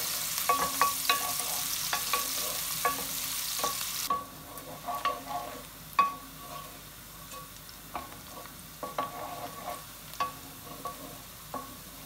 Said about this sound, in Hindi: तो अब हम ये प्याज को हम लोग थोड़ा ब्राउन होने तक वेट करते हैं